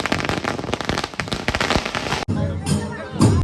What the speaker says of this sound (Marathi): इकडे फटाक्यांचा माहोल चालू झाला